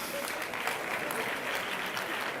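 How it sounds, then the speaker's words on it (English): Audience applause at a party election congress, a steady, fairly faint wash of many hands clapping in a large hall, continuous throughout without distinct individual claps. "We can give a big applause to Franz."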